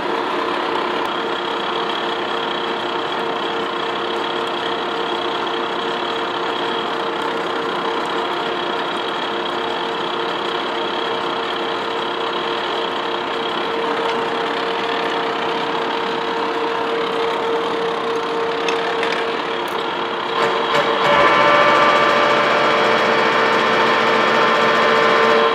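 A horizontal boring mill cuts a taper on a part for a robotic welding machine, giving a loud, continuous machining drone with steady tonal hum throughout, shifting character near the end.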